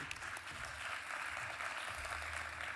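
A seated auditorium audience at a development conference applauds steadily and evenly throughout, a dense broadband wash of many hands at moderate distance with no voices over it.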